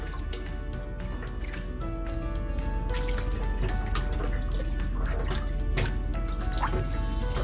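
Water splashing and dripping continuously as raw chicken is washed with vinegar, with wet squishing and trickling sounds close by, steady throughout.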